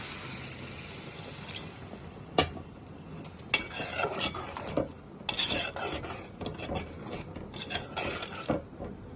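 A pan of bitter gourd (aakakarakaya) curry being stirred after water is added, giving soft scraping and rubbing with intermittent louder spoon knocks against the pan.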